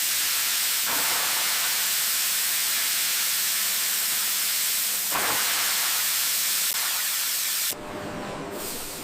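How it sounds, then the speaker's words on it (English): Loud, continuous high-pressure hissing like a steam jet, with brief surges and a sudden drop in intensity near the end, as old bones are steam cleaned for recycling. "the bones undergo intense steam cleaning to remove any residue"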